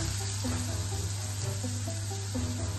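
Finely chopped onion sizzles in hot oil with asafoetida and curry leaves, a steady close frying hiss broken by a few soft stirring scrapes. No voices.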